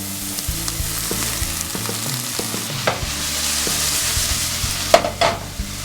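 Onions sizzle as they fry in a pan, a steady close crackle with a few louder stirring scrapes and knocks near the end over a low background tone.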